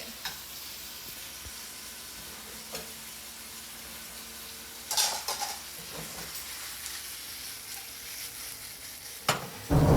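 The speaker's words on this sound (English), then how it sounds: "I'm just going to start to flip this around and get that cooking." Shrimp and bay scallops sizzle steadily in a frying pan as they are flipped and stirred, with a few louder scraping bursts over the continuous hiss and no voices.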